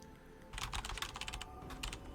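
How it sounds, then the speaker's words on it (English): Quick bursts of typing on a computer keyboard during a League of Legends session, a run of close, crisp key clicks starting about a quarter of the way in and continuing with brief pauses over a low steady hum. "A little bit of typing."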